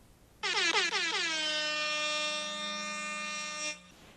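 A loud air horn blast from a phone app, a few stuttering bursts merging into one long sustained blaring tone that cuts off abruptly after about three seconds.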